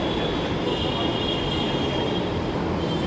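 A train runs at a metro station platform at Nirman Vihar in Delhi, a steady loud rumble of wheels and carriages with a faint high whine held throughout.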